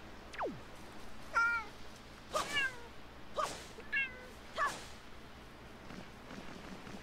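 Cats meowing in The Legend of Zelda: The Wind Waker, several short bright game meows arriving one after another at roughly even gaps, clear over a quiet background hum with no talking.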